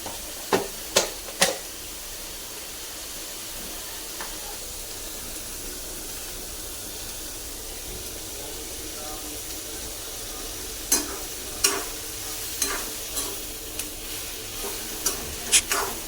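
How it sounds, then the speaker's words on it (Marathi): Onion, tomato, dry coconut and a little coriander roasting into a masala in a pan, a steady low sizzle with bursts of sharp spatula scraping and tapping at the start and end. "कांदा टमॅटो आणि सुकं खोबरं आणि त्याच्यामध्ये थोडीशी कोथिंबीर ॲड करायची आहे आणि व्यवस्थित आपला मसाला असा भाजून घ्यायचा आहे"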